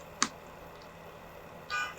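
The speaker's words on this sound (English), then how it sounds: "pay no attention to that person honking outside my house" A car horn honks outside a house, first as one brief toot and then as a longer, steadier blast near the end. Both sound somewhat distant and muffled, with a low hum underneath.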